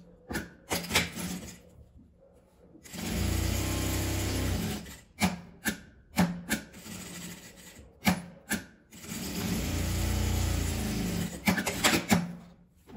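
A sewing machine stitches the folded fabric bias of a handle strap for a storage box, with two sustained runs of rapid mechanical stitching separated by sharp clicks and handling noises, close and alone.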